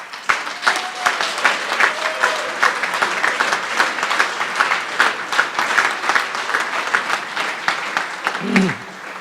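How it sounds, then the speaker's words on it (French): A gala audience applauds steadily, dense clapping filling the room for several seconds at a patriotic celebration, with a faint voice near the end. "Applaudissons-la, s'il vous plaît."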